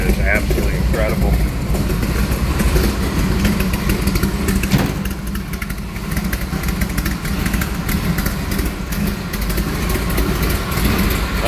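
The engine of a 1947 Chevrolet half-ton panel truck street rod idles with the hood open, a steady, loud, rumbling burble that runs throughout.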